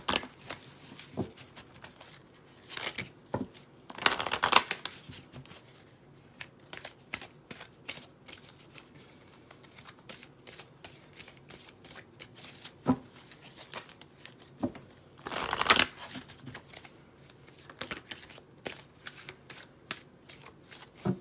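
Chakra cards are shuffled in repeated soft, papery riffles and taps, with two brief louder bursts of shuffling, fairly close and quiet overall.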